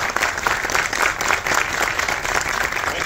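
An audience at a film festival screening gives a loud, dense round of applause for the film Tigdam, with steady, even clapping throughout.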